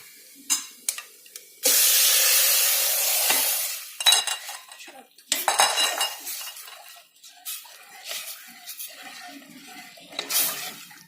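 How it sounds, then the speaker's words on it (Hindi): Milk with turmeric and cardamom stirred in a pot for a traditional Dogra sweet milk madra, giving scraping, swishing strokes with a long sustained pass and shorter bursts of spoon against metal, close by with no talking. "इहदे च अपना दूध जिहड़ा है हल्दी ते इलायची पाइए रखे दा, असें इहदे च पाइए चलाई लेना"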